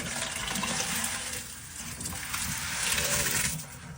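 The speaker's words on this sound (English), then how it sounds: "you see the water going out into the sink." Water drains from a bucket of sand into a sink, a steady, fairly loud rushing and gurgling that runs continuously without any talking.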